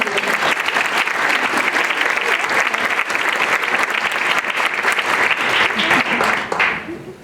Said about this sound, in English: can we clap for everyone